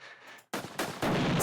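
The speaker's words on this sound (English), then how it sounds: "I really like those explosions." Sharp bursts of explosions from a Ludum Dare indie video game, a few loud booming blasts in quick succession after a brief silence, with no talk.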